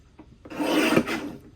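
Paper trimmer blade slides through a sheet of dark blue textured cardstock in one quick rasping cut, close and moderately loud, with no speech.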